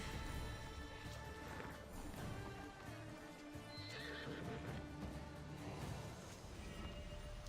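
A horse neighs and whinnies in Assassin's Creed Odyssey amid hoof clip-clops and a busy, steady game background ambience.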